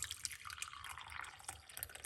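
Parsley and lemon tea pouring from a pot into a small cup, a faint, close trickle with light splashy drips throughout, quiet and continuous for a couple of seconds.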